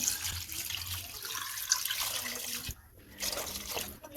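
Water pours into a pressure cooker holding beef bones and spices for Tamil-style beef bone paya, a steady splashing rush with small drips that briefly breaks off and resumes, close and alone.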